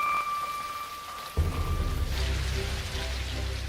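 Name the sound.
rain falling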